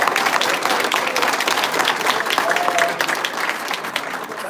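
Sustained audience applause for a choir fills the room, with many hands clapping at a steady, dense level throughout and a faint murmur of voices underneath.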